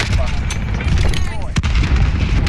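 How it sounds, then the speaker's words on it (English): Cruise missile launch and explosion in Call of Duty, a dense rumbling barrage of booms and distant blasts with one sharp impact near the middle, continuous throughout. "Cruise missile, go for"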